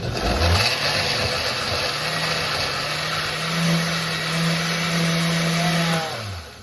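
Kitchen blender chopping celery for juice, its motor spinning up with a rising whine, running steadily with slight pitch shifts, then winding down near the end.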